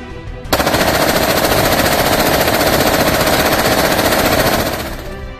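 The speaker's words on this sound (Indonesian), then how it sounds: "Senapan SS-2 ini dapat memuntahkan 700 peluru per menit dengan jarak tembak 500 meter" An SS-2 assault rifle fires one long, loud burst of automatic gunfire, rapid evenly spaced shots running nearly five seconds before cutting off.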